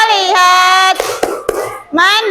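A fourth-grade class joins in a rhythmic clapping game, with children chanting in loud unison. A short cluster of sharp hand claps falls between the sung calls.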